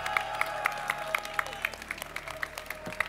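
Light, scattered clapping from a small audience at a gaming event, soft and somewhat distant, with a steady patter of individual claps over a murmur of background noise.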